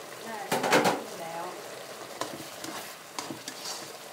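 Mushrooms being stir-fried in oyster sauce in a pan, giving a burst of stirring and sizzling near the start and then lighter scraping and sizzle that comes and goes, with no talk.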